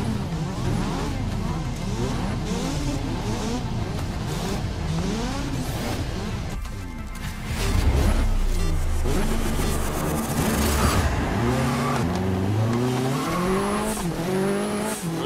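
Racing cars in the video game Grid 2019 rev hard at the start of a race, layered engine whines rising and falling in pitch, swelling louder midway with tire squeal, while a commentator's voice talks over them.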